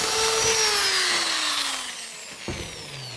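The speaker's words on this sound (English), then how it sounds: "We'll drill it in." A power drill runs continuously, its motor pitch sliding steadily downward as it drives into the quarter panel window of a car body, loud and close, then briefly drops before picking up again near the end.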